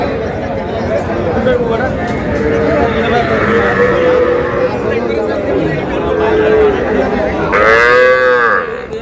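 A young bull calf lows at Ambari livestock market amid a noisy crowd, with steady chatter and talking throughout and a loud, close moo rising near the end.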